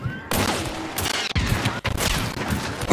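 Rapid bursts of gunfire ring out in the video game Hunt: Showdown, several sharp, loud shots crowding close together in a dense, echoing volley.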